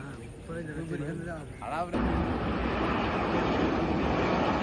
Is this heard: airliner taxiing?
yes